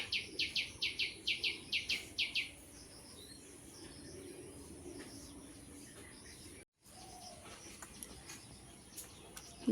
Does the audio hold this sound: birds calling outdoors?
yes